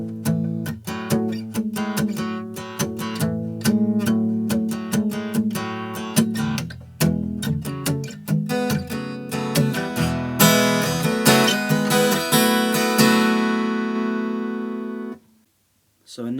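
Guitar playing the pre-chorus of a song, a steady run of picked and strummed notes with a denser, brighter burst near the end before a short silence, played alone.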